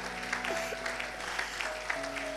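A church congregation applauds and cheers for the preacher's wife at a Sunday service, a steady wash of clapping from a crowd heard at moderate distance, with faint voices mixed in.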